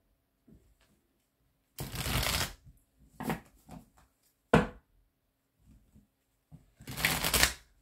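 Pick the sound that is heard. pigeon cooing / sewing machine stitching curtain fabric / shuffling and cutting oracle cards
shuffling and cutting oracle cards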